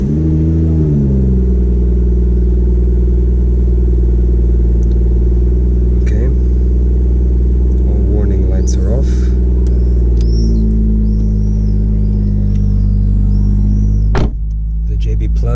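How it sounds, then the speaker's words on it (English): BMW M140i with a JB+ tune fitted, its engine cranking over and settling into a steady, loud idle with a low rumble that holds throughout, dropping away near the end. "Let's start the engine up for the first time."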